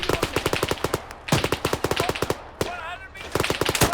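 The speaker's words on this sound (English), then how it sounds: "Shoot through the metal." Rapid automatic gunfire from the combat game Arma 3 rattles in close, loud bursts, shooting through metal, with a brief pause and a whistling effect between volleys.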